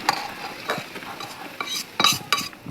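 Oil and cooked jaggery being stirred together for mango pickle, a few short scraping and clinking strokes of a spoon against the vessel with a light sizzle between them, close and moderately quiet, no talking.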